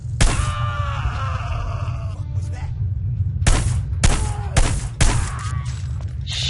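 Gunfire in the video game Hitman: Blood Money: a loud opening shot, then a quick cluster of sharp, booming shots later on, all over a steady low rumble of game ambience.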